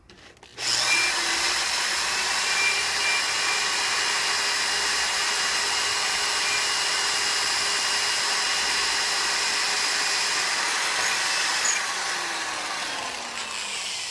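A steady high-pitched whine of a drill running continuously on spinning metal stock, loud and unbroken for over ten seconds.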